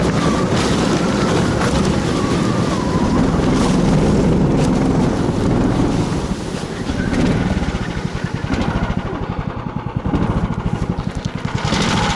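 A motorboat engine drones steadily while underway on a taiga river, a loud continuous rumble with wind noise, easing slightly partway through.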